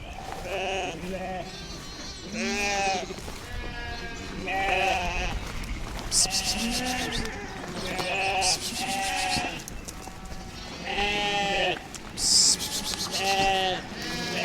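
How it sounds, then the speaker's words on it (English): Sheep and newborn lambs bleating in a rotationally grazed pasture, many overlapping calls near and far in irregular bursts, some deep and some high, with a continuous outdoor rumble underneath. "There's another ram."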